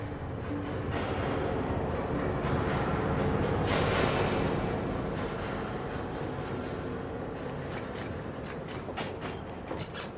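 Train running in a radio drama: a steady, loud rumble of rolling railcars with rattling, clacking and creaking mechanisms throughout, continuous and close, with no voices.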